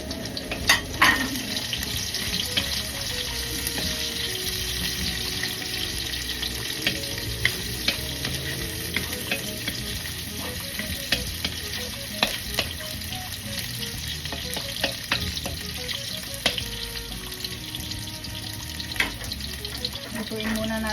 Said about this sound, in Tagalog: Hayaan lang po natin yung bawang natin na mag-dart ng konti, tapos isunod na rin po natin yung onions.